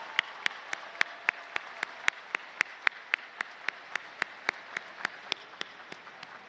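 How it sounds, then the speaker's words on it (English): At a university commencement ceremony, hands clap in a sharp, evenly spaced rhythm, about four crisp beats per second that hold steady throughout. "Let's give them a round of applause."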